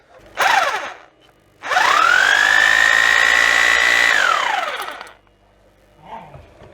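A 2 kW rotary hammer drill powered through an inverter from a car battery spins up twice: a brief failed start, then a loud high whine that holds steady for a couple of seconds before winding down.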